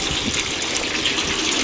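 A 1927 Maytag washing machine, powered by a 1946 Maytag 72D engine, draining its water in a steady, loud, close rushing gush that runs without a break.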